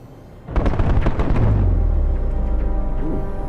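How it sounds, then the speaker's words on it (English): Typhoon augment in a sci-fi game discharging a burst of steel balls propelled by shaped microcharges: a sudden loud crackling volley of rapid blasts, then a deep booming rumble that slowly fades. "I've improved its design using shaped microcharges to propel the steel balls"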